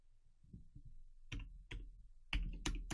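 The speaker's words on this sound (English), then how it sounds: "you can hear the keyboard clicking if you listen closely." Faint computer keyboard typing, with soft clicks at first and then sharper, louder keystrokes in small clusters, heard quietly and close with no talk.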